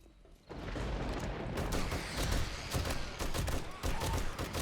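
Rapid bursts of gunfire crackle in 7 Days to Die during a base defense, a dense, continuous volley of shots at moderate, fairly quiet level.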